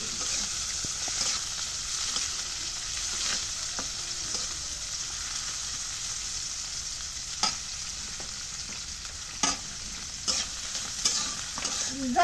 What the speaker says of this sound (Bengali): এখন শুটকিটা তেলের মধ্যে রাখি